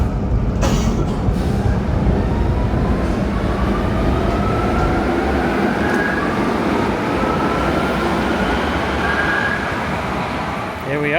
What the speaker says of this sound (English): I can see the train.